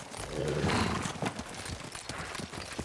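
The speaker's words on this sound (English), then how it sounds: "Horse!" Hooves pound rapidly on the ground in a rushing gallop, with a horse whinnying early on, all set against dense, noisy game ambience from the video game Ghost of Tsushima.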